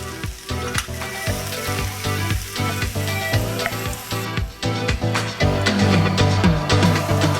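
Bean sprouts hit a hot pan of stir-fry with translucent onions, and a loud, steady sizzle and frying hiss continues close up throughout with faint stirring clatter, no voices.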